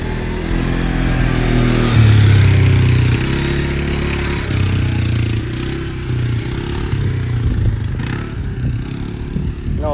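A loud, steady engine rumble of vehicles, motorcycle-like, passes through a parking lot, swelling and easing over ten seconds, with a little clatter near the end.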